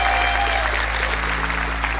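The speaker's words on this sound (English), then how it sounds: "Can we get a round of applause for the analysts" An esports crowd at a BLAST R6 Major finals in Atlanta applauds the analyst desk, a sustained wash of clapping heard over steady low venue hum and a faint tonal background.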